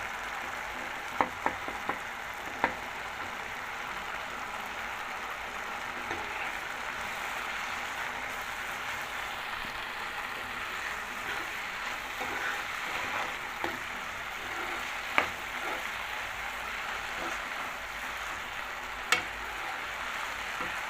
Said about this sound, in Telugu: ఇప్పుడు అల్లం వెల్లుల్లి పేస్ట్ వేయాలి ఫ్రెండ్స్